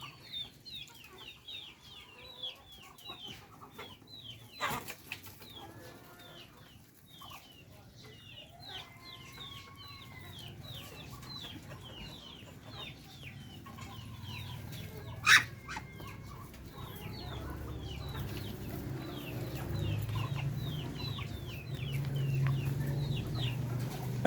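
Many chicks of various colors, native chickens, peep in a busy stream of high, thin chirps at close range, with occasional clucks and a low rumbling background that grows louder toward the end.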